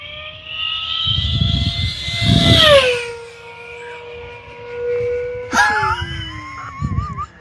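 An E-flite V1200 V2 1.2 m RC model airplane flying an inside-out loop, its electric motor whining steadily, pitch sliding downward, then rising to a sharp high whine as it passes; muffled speech-like sounds appear at moments.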